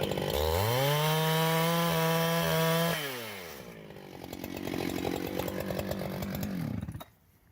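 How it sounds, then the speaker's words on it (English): A saw cutting a block of hard wood at a live woodworking event in Hickory, NC. A loud steady motor whine drops in pitch and turns rough and stuttering as it bites into the wood, then cuts off abruptly near the end. "These are a lot harder, and you can watch the saw jump when I'm running it down way."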